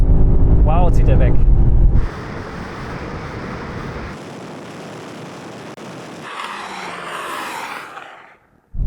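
BMW M5 cars, spanning first to latest generations, accelerating hard side by side in a drag race, a loud sustained roar of engines and wind rushing past, continuing for several seconds before fading at the end, with a voice briefly heard near the start.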